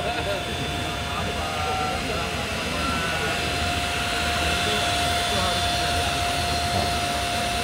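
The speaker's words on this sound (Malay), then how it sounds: "Dia nak menunjukkan bahawa kipasnya bergerak aktif." The cooling fan of a Benda BD700 motorcycle runs steadily with a broad, even whoosh and a thin whine on top, loud and unbroken, while people talk over it.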